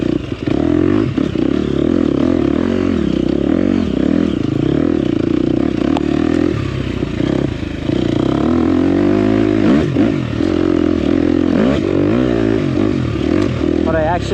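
A 2024 KTM 250XCF four-stroke dirt bike engine drones loud and close while ridden on trails, its pitch rising and falling with throttle over wind buffeting and clatter.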